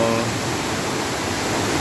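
Steady close roar of Hamogaway Falls, a waterfall in Bayugan City, Agusan del Sur, with a brief voice at the very start before the continuous rush of water carries on alone.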